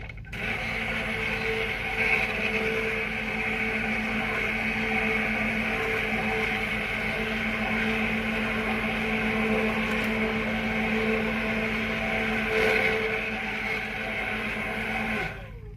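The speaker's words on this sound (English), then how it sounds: "I think that's it with the stick blender." A stick blender mixing cow's milk soap batter whirs steadily and loudly without pause, a constant motor buzz with no voices.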